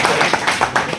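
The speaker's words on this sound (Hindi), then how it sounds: "एक बार जोरदार ताली बजाएं" An audience at a local political gathering in Vidisha claps in a brief, loud burst, several distinct clap accents within about a second.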